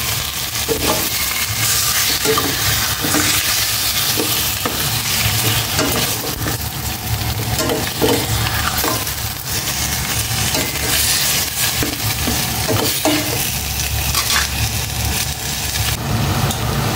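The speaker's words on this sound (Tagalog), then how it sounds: "Gisa ko na itong pork." Pork sautéing in a pan, a steady loud sizzle running through the whole stretch with repeated scraping stirs of a utensil against the pan, no voices.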